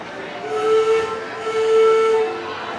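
Disneyland steam train whistle, two sustained tonal blasts in quick succession, clear and fairly close over a low background hum.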